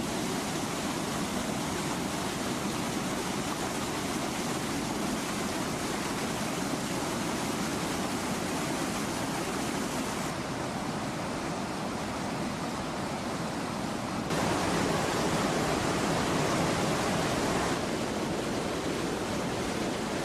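The Valgejõgi waterfall in Lahemaa, Estonia, a rapids-like drop about 20 metres wide and 1.2 metres high carrying plenty of water, gives off a loud, unbroken broadband roar of rushing water, heard close with no voices.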